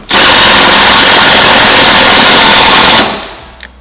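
An impact gun rattles hard on the strut bar bolts of an R33 GT-R, one loud, close, continuous burst of about three seconds that stops abruptly and leaves a short fading tail.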